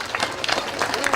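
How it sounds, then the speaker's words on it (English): Audience applause for the Cochran family at a constituent day service in Weldon, North Carolina: a short, steady wash of clapping from a crowd, filling the moment at an even level. "Let's give the Cochran family a round of applause"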